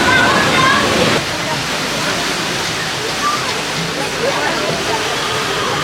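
Water rushes and splashes steadily on the Walibi Rapids river ride at Walibi Rhône-Alpes on a warm day, a loud continuous roar with a brief heavier surge at the start.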